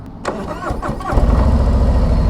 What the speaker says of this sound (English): Turn the ignition switch over here to on. Turn our fuel pump on. Pull the clutch in. Push to start.